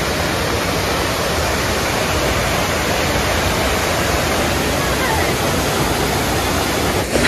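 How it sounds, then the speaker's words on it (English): Rushing water from the Trevi Fountain in Rome pours and splashes in a loud, steady roar that fills the whole scene without a break. "The Trevi Fountain. It really is impressive."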